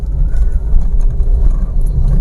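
A car creeps along in first gear through a traffic jam with the clutch fully released, giving a steady, close, low engine rumble that continues without any talking.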